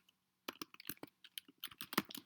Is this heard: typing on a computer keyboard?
yes